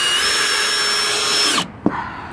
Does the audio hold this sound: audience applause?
no